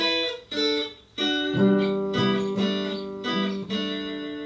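A guitar plays a short plucked call-and-response riff of ringing notes, with a phrase and then an answering phrase, clear and close with no voices.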